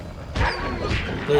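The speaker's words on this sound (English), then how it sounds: "That's a dog." A dog enemy in The Legend of Spyro: The Eternal Night gives short bark-like bursts alongside game effects, while people talk over it.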